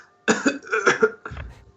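A person coughs several times in a quick burst, close and clear, followed by a rougher throat-clearing sound in an otherwise quiet room.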